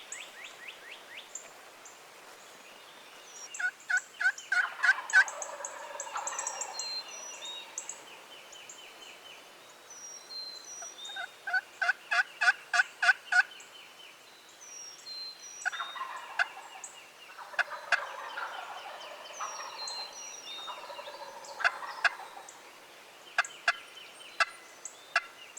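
Wild turkeys gobble repeatedly from a distance in an outdoor setting. Rapid rattling bursts recur every few seconds against faint rustling and other bird calls.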